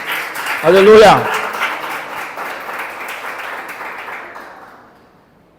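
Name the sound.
congregation applauding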